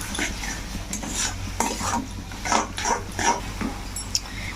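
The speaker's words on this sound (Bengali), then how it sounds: "এবার সব একসঙ্গে ভালো করে কষা নেব।" Masala with chopped tomato being stir-fried and scraped around a pan for Bengali chicken kosha curry, a repeated rhythmic stirring scrape over a soft, continuous sizzle, close and clear.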